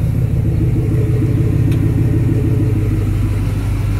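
2003 Ram 1500 with a swapped-in 5.7 engine and new muffler idling, a deep, steady rumbling exhaust burble with an even low pulse, close and loud, with no talking.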